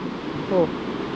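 Steady, broad rush of water roars continuously from an opened dam at Kothayar, Kanyakumari, in a forest, with a faint brief tone rising briefly in the middle.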